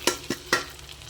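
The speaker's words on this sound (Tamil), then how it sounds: "இந்த முந்திரி நெய் திராட்சை எல்லாமே சேர்த்து நம்ம அப்படியே ஊற்றிடலாம்" Ghee-fried cashews and raisins tipped into a pot of payasam, giving three sharp sizzling clatters in quick succession, close and fairly loud, then fading to a quiet simmer.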